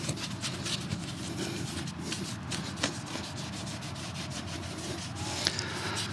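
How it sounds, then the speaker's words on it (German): Rubbing and wiping of the opened cover on a Vespa GTS 300 scooter, a continuous close scrubbing friction with rhythmic strokes and a few small knocks, no talk. "Wenn wir den Deckel schon mal abhaben, machen wir gleich mal ein klein wenig sauber."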